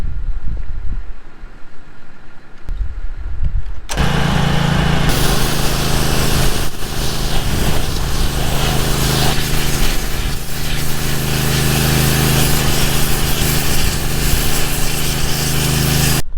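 A water sandblasting machine runs as a loud, steady engine-driven roar with hissing spray, starting after a brief quieter stretch and continuing without break.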